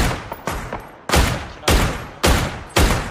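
Gunfire in the PUBG battle royale game, with a FAMAS rifle and Dragunov sniper in play: a few faint distant shots, then four loud, sharp reports spaced roughly half a second apart, each with a short decaying tail.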